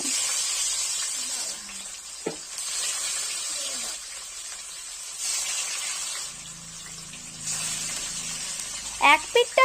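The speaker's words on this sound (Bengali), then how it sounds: "এবার একে একে মাছগুলোকে আমি কড়াইয়ের মধ্যে দিয়ে দিচ্ছি" Pieces of katla fish go one by one into hot mustard oil in a kadai, each drop bringing a loud, close hiss and sizzle that swells and fades, with brief talk at the end.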